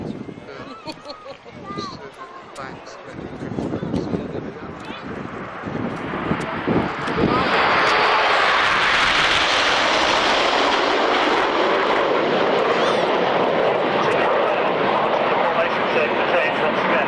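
Red Arrows display jets flying in formation at the 1993 RAF Waddington Airshow: a distant whine grows into a loud, sustained jet roar as the formation passes close, with a commentator's voice over the early part.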